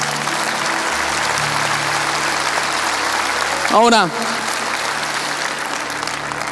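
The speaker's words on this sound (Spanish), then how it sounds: "dale un aplauso al Señor" Church congregation claps in loud, continuous applause during a sermon, with a brief sung or spoken voice cutting through just before the four-second mark, then the clapping carries on.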